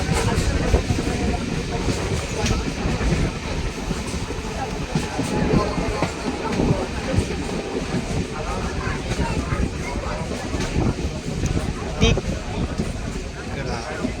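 A Panskura–Digha local train pulls into Tikra station with a loud, continuous rumble and wheel clatter throughout, and faint crowd chatter mixed in.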